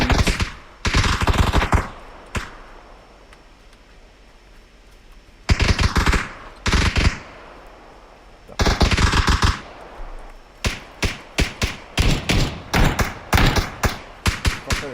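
Gunfire in the battle royale video game PUBG: loud bursts of automatic fire in several clusters, with long sustained volleys early on and a rapid string of separate shots toward the end, no talking.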